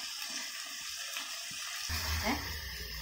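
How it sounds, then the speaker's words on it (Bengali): Water pours into a pot of Bengali desi chicken curry after the spiced masala has been fried down, a steady splashing rush that swells in the second half and stays close and fairly loud. "এবারে আমরা এতে জল দিয়ে দেব।"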